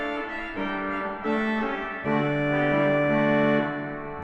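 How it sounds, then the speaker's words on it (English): An 8-foot horn stop on the Bristol Cathedral pipe organ plays a slow sequence of sustained, brassy reed chords, swelling louder partway through with no voices. "There's an 8-foot horn, and it sounds like this."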